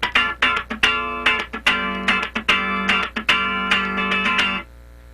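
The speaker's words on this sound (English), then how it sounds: "now let's play a rhythm part that has a little bit longer tone with the left hand" Funk rhythm guitar part with longer sustained chord tones, fretting hand holding notes while the strumming hand floats; clean, close chords ring in a syncopated pattern and then stop, with no talking.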